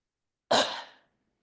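A single short, harsh cough bursts out close to the mic, fading quickly into silence.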